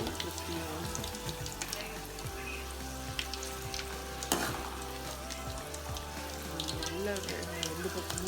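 Chicken kebabs fry in a pan with a steady, crackling sizzle and scattered pops of hot oil, and occasional stirring and scraping sounds come through.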